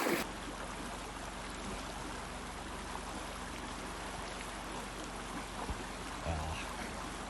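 Steady broadband rush of a creek flowing, continuous and fairly close, with faint splashes and no talking.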